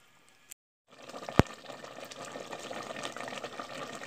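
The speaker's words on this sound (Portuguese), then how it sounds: "Vou acrescentar mais um pouquinho de água para dar mais uma fervida." Water is poured into a pot of creamy chicken soup (canja) on the boil, a sharp knock followed by a continuous close gushing pour that keeps running to the end.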